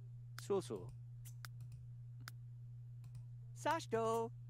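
Sharp, quick computer mouse clicks land at irregular intervals while navigating The Sims 3 menus. A steady low hum runs underneath, and a voice talks briefly at the start and end.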